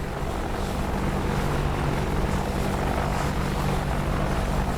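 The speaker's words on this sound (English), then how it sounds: "Helicopter's doing pretty good." An AH-64D Apache attack helicopter in DCS flies over Afghanistan with a steady, loud rotor and engine drone. Dense broadband roar with low thumping hum carries evenly throughout, no voices.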